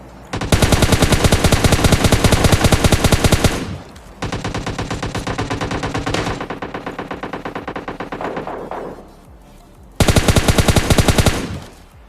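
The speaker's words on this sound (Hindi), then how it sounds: "अब तुम बस फाइट के गन साउंड सुनना" Heavy automatic gunfire from a battle royale shooter game fight, loud and continuous in long sustained bursts with a brief pause, then another burst after a quieter stretch.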